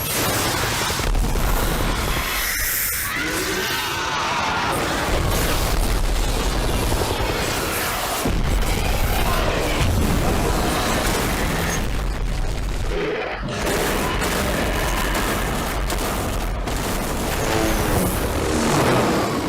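Dense, continuous movie battle din of a dragon attack, with heavy booms and bursts of gunfire layered over a roaring rumble, loud and sustained throughout.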